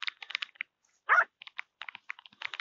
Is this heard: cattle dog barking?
yes